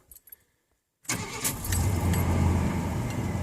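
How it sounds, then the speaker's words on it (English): A 1991 Chevy 1500 Silverado with throttle body injection fires right up at the key after brief jingling of keys, settling into a steady, loud, close idle. "Fires right off when you hit the key."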